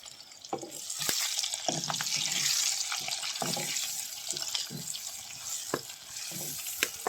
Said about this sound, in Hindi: मशरूम डालने के बाद में फिर अच्छे से मशरूम को फ्राई कर लेती हूँ